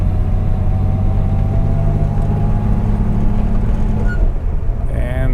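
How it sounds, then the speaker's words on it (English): A 1961 Mercedes-Benz 220Sb W111 with a four-speed manual column shifter climbs a hill, its engine droning steadily in a loud, close in-car rumble, with a brief shift in tone near the end. "Now when I come up this hill, I can actually find 3rd gear."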